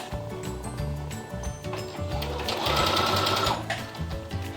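Sewing machine stitching an embroidered cosmetic pouch, running in short rhythmic bursts of rapid mechanical ticking and whirring, close and clear, with a longer, louder continuous run near the end and no talk.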